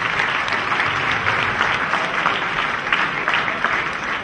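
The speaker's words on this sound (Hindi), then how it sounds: "दोनों के लिए जोरदार तालियां।" Loud applause from a school festival audience, thick and sustained claps filling the hall for several seconds without speech.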